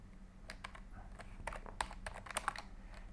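Quiet, irregular keystrokes on a computer keyboard as a question is typed, a few soft clicks then a quicker burst of taps over a low steady hum.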